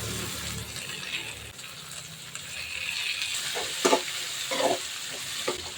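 Tomatoes and curry leaves sizzle and fry steadily in a hot pan, with a few louder crackles and stirring scrapes near the end.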